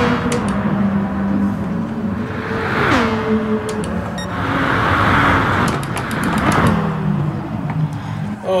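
A car engine in the Gran Turismo Sport racing video game drones steadily throughout, pitch sweeping up and down with gear changes, loud and continuous with a voice talking over it.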